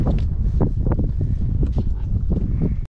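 Strong wind buffets the microphone on a small fishing boat at Kuala Selingsing, a loud, gusty low rumble that pulses irregularly for about three seconds and then cuts off abruptly.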